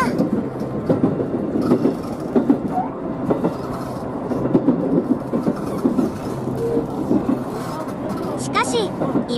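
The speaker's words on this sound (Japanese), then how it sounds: "乗り込んだ電車は環状線を各駅に止まるながら行ってました" A commuter train on the Osaka Loop Line rumbles along its rails between station stops, a steady close rolling clatter inside the carriage while a voice talks over it.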